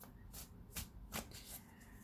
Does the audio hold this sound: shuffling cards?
yes